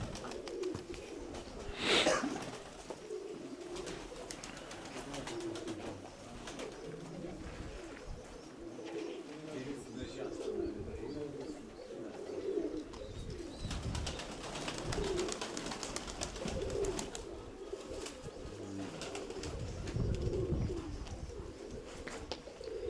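Domestic pigeons and doves in a loft coo repeatedly in low, throaty rolling calls, several birds overlapping near and far with occasional wing flutters and rustling, continuing steadily without talking.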